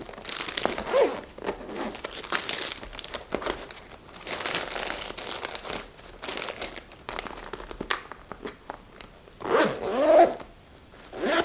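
Plastic bag handled and sealed while packing moisturizer for a trip, with close crinkling and zipper-like rasps in bursts, louder near the end.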